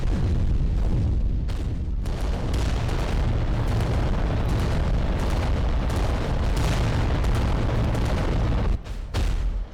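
Titan weapon fire in Adeptus Titanicus sounds as a dense, continuous barrage of heavy booms and blasts, loud and rumbling throughout with sharp impacts layered on top.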